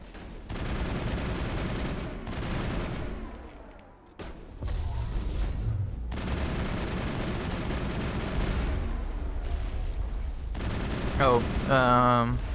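Dense bursts of gunfire from snipers in the video game Mass Effect, loud and sustained with clustered shots and brief pauses, plus electronic weapon and effect noises near the end.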